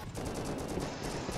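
Attack helicopter gunfire in Rust Console Edition PVP on PS5: a dense, continuous stream of rapid automatic shots, loud and sustained across the whole moment with no pauses.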